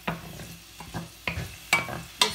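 Onions sautéing in a pan until softened, a soft steady sizzle broken by several sharp scraping stirs at regular intervals, heard close with no talk.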